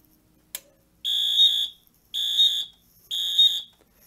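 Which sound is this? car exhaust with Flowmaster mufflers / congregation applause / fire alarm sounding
fire alarm sounding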